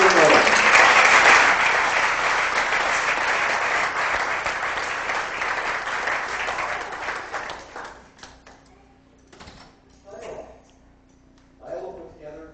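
A family reunion audience gives a round of applause, strong and sustained at first, then thinning out over several seconds until a voice begins talking alone.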